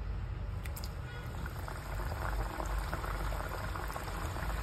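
Kapanya, a traditional Ashadh dough sweet, fry at medium heat in hot oil, a dense, continuous bubbling sizzle, close and loud, holding steady throughout with no clear talk.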